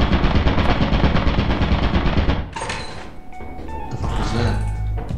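Turret in the video game Lethal Company firing a long rapid burst that cuts off midway, followed by clattering and voices talking over game noise.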